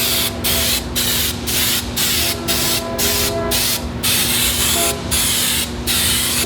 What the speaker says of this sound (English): So you want to spray this side